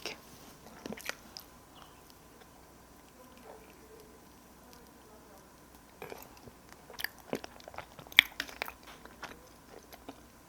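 Soft chewing and biting on glutinous rice cake (chapssaltteok), scattered quiet sticky crunches and mouth sounds in a hushed room, brief clusters of bites near the end.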